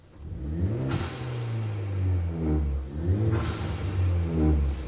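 A car with an axle-back exhaust revs repeatedly, about three deep throaty rises and falls close by, each rev climbing in pitch before dropping back to a rumbling idle.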